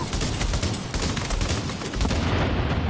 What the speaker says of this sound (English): Cluster bomb out.